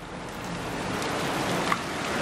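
Heavy rain pours outdoors in England, a steady, dense close hiss that holds evenly throughout with no voices.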